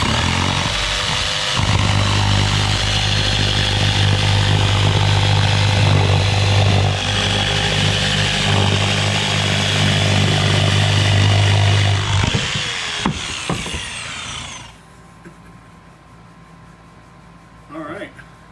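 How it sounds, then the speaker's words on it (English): A jigsaw cuts through plywood with a loud, steady buzzing drone that lasts about ten seconds before stopping. Quieter clatter and handling noises follow. "I think I might use my jigsaw."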